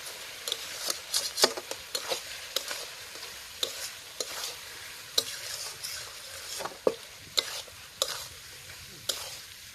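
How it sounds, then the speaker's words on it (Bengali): A spatula scrapes and knocks repeatedly against a pot as meat curry with coriander leaves is stirred and fried outdoors in a garden, sharp uneven strokes over a steady sizzle, close, with no speech. "ধনিয়া পাতা দিয়ে একটু নেড়ে চেড়ে নেবো।"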